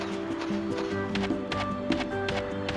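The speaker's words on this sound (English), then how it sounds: "Oh, there's the horse." Horse hooves clip-clop in a quick, even galloping rhythm in a horse riding video game, fairly quiet and continuous with no talk over it.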